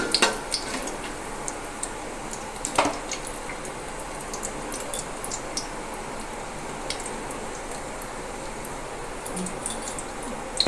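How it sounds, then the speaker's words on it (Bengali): Cinnamon and cardamom lightly fried and stirred in a pan for basanti polao, a soft continuous sizzle with scattered scrapes and clicks of the spoon, one sharper knock early on, fairly quiet throughout. "এগুলোকে হালকা করে নাড়াচাড়া করে নেব। হালকা করে ভেজে টেজে নেব আমি।"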